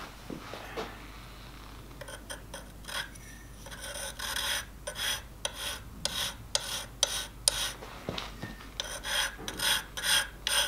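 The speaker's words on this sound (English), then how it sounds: "Now I'm going to break that edge so that it's not a completely sharp edge" Hand file rasping across metal on a crankshaft to break a sharp edge, a workshop sound of repeated close strokes in an uneven rhythm with short pauses between passes.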